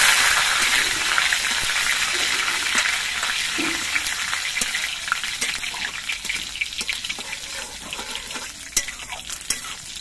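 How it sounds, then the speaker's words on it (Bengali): Crushed garlic frying in hot oil in a pan while making a daliya dish gives a steady, close, bright sizzle and crackle with small pops throughout, and no voices. "এবার রসুনটা একটু ভেজে নেব।"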